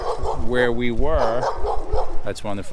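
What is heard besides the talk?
dog barking at a campground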